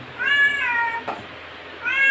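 A pet cat meows at home, two drawn-out, close and fairly loud calls with a short pause between them and no talk.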